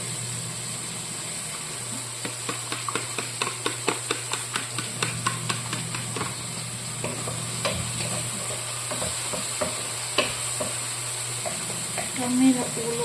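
Tomatoes fry in a pan with a steady sizzle, while a utensil stirs and taps against it in a run of regular sharp knocks, joined near the end by a louder clatter.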